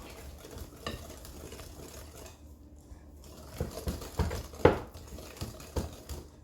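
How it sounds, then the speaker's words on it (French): Oreo cake batter being stirred in a bowl, soft and quiet scraping and sloshing that grows into a few louder, irregular strokes and taps against the side of the bowl. "Après, je vais bien mélanger"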